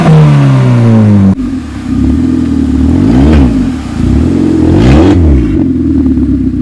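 A Maruti Swift fitted with a custom low-budget valvetronic exhaust revs loudly and close by, its engine note climbing and dropping in two sharp blips over a steady idle rumble.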